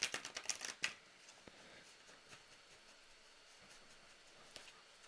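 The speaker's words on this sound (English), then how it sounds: "I did already shuffle this deck, but I'll put one more shuffle on it." A Black Moon tarot deck being shuffled by hand, a quick rattling burst of riffled cards in the first second, then faint scattered card ticks and soft handling noises alone in a quiet room.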